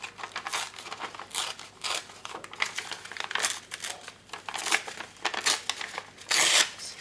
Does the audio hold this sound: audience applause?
no